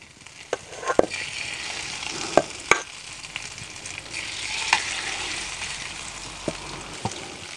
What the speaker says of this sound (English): Then I'm going to lay the fish in there, skin side down,